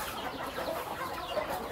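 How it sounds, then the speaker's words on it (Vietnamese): Chickens on a Di Linh home garden farm cluck softly and steadily while being given water, a low continuous murmur of fowl at moderate distance with no one speaking. "đang cho gà uống nước"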